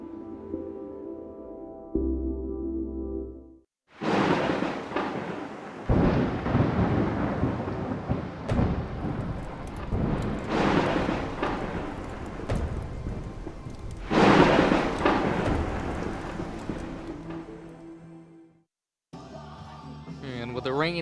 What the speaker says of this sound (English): with the rain coming down at Haynes and Carolyn Hill Stadium